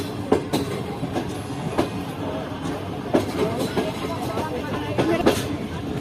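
The Karachi Express runs between Karachi and Khanewal, wheels beating a steady, loud clickety-clack with periodic rail-joint knocks and a constant rumble, faint voices underneath.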